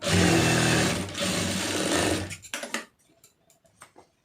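A sewing machine runs fast and loud, stitching a quarter-inch seam along a plain blouse for about two seconds, then slows into a few separate thumps and clicks before stopping.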